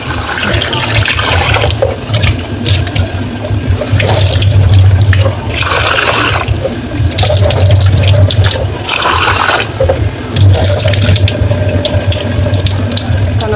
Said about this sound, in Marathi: तोपर्यंत मी तांदूळ धुवून घेते